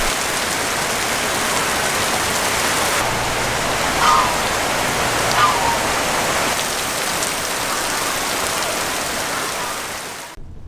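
Heavy monsoon rain in the Isan region of Thailand, a loud, dense, steady hiss of downpour that continues unbroken throughout and cuts off abruptly at the end, no talking.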